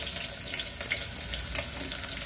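Chopped onion sautéing in oil in a pan for Maharashtrian mutton rassa, a steady close sizzle and crackle with faint clinks of stirring.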